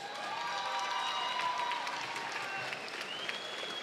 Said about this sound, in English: a round of applause for these two warriors